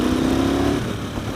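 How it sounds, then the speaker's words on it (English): Steady mid-pitched drone of a 2016 Motus MST motorcycle engine under way on the road, holding a constant tone before easing slightly, close and fairly loud with wind noise. "There is a great exhaust note on these engines."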